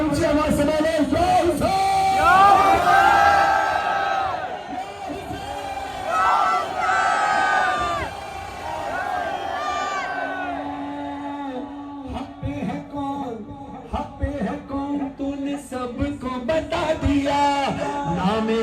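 A packed crowd at a religious gathering in Quetta raises hands and shouts slogans in loud, surging unison, with bursts of massed voices giving way to a single chanting voice and scattered calls.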